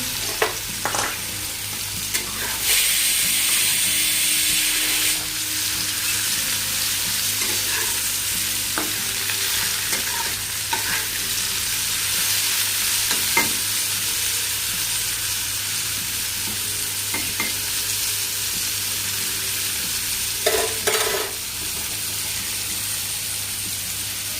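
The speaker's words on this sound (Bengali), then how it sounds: "তেল গরম হয়ে গেছে, এটা দিয়ে দিলাম" Food added to hot oil in a pan gives a loud continuous sizzle close by, with occasional stirring clinks and scrapes across the whole stretch and a brief high whistle early on.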